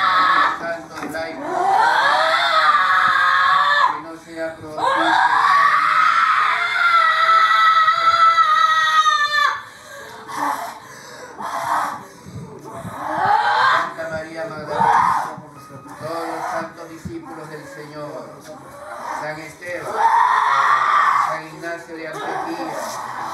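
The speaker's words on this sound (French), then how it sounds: "Enfin, tous crient, hurlent et pleurent pendant des heures." Possessed people at an exorcism scream and wail in long, rising and falling howls that come in several loud bursts, broken by short pauses and overlapping voices.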